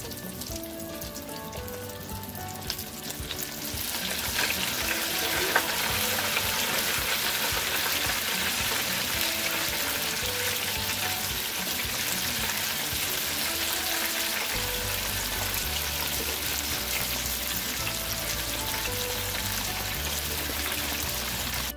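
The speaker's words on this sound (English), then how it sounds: "We're going to start dropping our wings in one at a time. Our oil is hot." Breaded chicken wings fry in hot oil with a loud, dense, steady sizzle, swelling stronger after the first few seconds as more wings drop in and then holding constant to the end.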